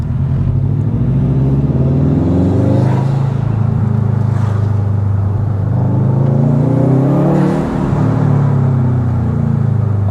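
Subaru WRX STI with a 330 bhp flat-four and loud exhaust, burbling deep and throaty as it revs up and eases off in long swells, close and loud, with occasional faint crackles and no voices.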